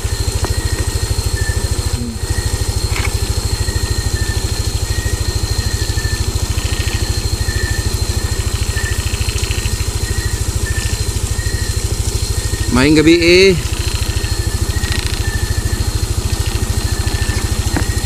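A motorcycle engine idles steadily up close with a low, even throbbing rumble, and a brief spoken phrase cuts in near the end.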